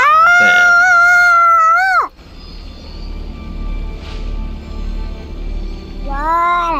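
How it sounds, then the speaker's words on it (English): A domestic cat yowls in long, loud, wavering caterwauls, first in a sustained two-second wail, then after a pause of low rumbling background another drawn-out yowl begins, close to the microphone. "Kitty, oh, are you fighting him?"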